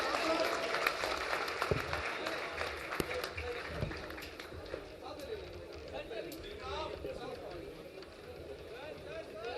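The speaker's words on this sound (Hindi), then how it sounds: "अवध ओझा के लिए फिर से एक बार सभी लोग जोरदार ताली" Applause for Avadh Ojha at a Lallantop Adda gathering rolls through a dense crowd, a steady wash of clapping held at an even level throughout, with no distinct talk over it.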